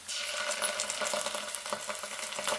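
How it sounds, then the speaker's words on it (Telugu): Ginger garlic paste sizzles steadily in hot oil with browned onion, a dense crackling fry with faint stirring scrapes throughout. "ఇప్పుడు ఇదో ఉల్లిగడ్డ దోరగైంది అల్లం వెల్లుల్లి పేస్ట్ వేస్తున్నాను"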